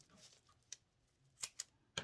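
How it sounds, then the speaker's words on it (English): Scissors snip the leftover string from a hand-tied smudge stick of garden herbs and roses, a few short, crisp cuts spaced apart, close and quiet with no voices. "and then I'll cut the excess off"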